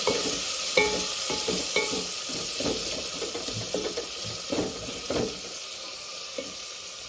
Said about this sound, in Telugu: ఇప్పుడు తగినంత టమాటా వేసుకుంటున్నామండి టమాటా బాగా ఉడకాలండి